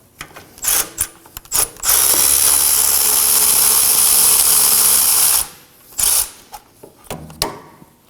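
A ratchet loosens and removes caliper bolts on a 2014-2020 Acura MDX rear brake, with short clicking bursts followed by a long continuous whir of rapid ratcheting, then more brief clicks. Close and loud.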